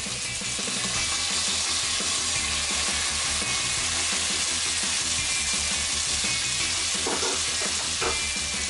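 Ribs sizzling and frying loudly in a pan as Maggi juice is added, a steady dense crackle running throughout with no voices.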